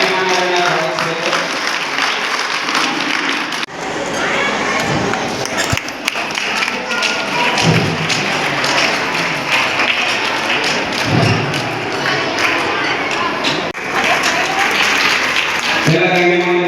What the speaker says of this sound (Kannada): ಅದೇ ರೀತಿ ಎಲ್ಲರೂ ಜೋರಾದ ಚಪ್ಪಾಳೆಯೊಂದಿಗೆ ಧನ್ಯವಾದಗಳನ್ನು ಅರ್ಪಿಸಬೇಕು.